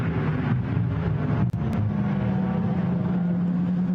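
Porsche 911 GT4 race cars lap the Nürburgring on a dry track during GT4 European Series qualifying, producing a continuous, loud engine drone with a steady hum and wind-like rush and no break in the noise.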